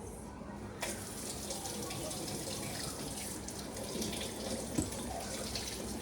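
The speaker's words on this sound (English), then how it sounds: "So now I'm gonna wash these mushrooms and then chop them." Mushrooms being washed under a running kitchen tap, water pouring steadily into the sink with a continuous splashing hiss and a brief spike midway.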